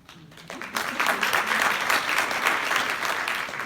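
Audience applause at a retirement ceremony, steady dense clapping swelling up after a brief pause and continuing throughout.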